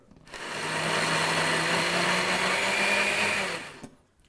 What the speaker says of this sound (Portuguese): Vamos bater no nosso liquidificador.